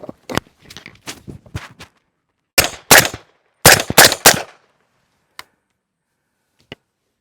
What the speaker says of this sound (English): We're going to shoot at this first target for 5 shots, transition to a second target